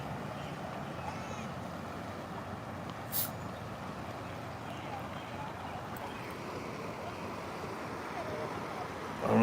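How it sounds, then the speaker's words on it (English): A river flowing past outdoors in Cherokee, North Carolina, heard as a continuous close broadband rush of water with no breaks, steady in level throughout. "Can y'all hear the river going by me?"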